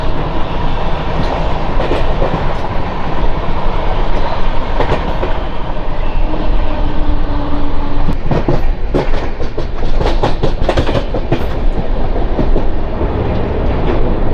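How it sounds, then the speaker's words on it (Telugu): A Gudur–Vijayawada MEMU train runs on its rails, with a loud, steady roar from close by and rhythmic clickety-clack wheel beats growing sharper toward the end, with no voices. "Gudur Vijayawada memo train"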